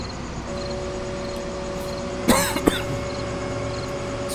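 Two short coughs from a person getting over the flu, close to the microphone, one after the other over a steady background hum.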